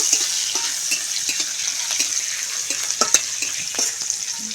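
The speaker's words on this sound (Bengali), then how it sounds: "কাঁচা লঙ্কাটাও তেলের মধ্যে একটু নেড়ে চেড়ে নেব" Chopped green chilies sizzle and fry in hot oil while being stirred in a pan, a steady close hiss with scattered small pops and occasional scraping taps of the spoon, no talking.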